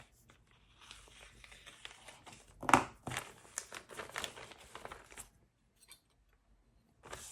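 A large plastic bag of clear parts from an Airfix Vintage Classics 1:24 scale P-51D Mustang model kit is cut open with scissors, producing close crinkling and snipping bursts, loudest midway, then trailing off to quiet.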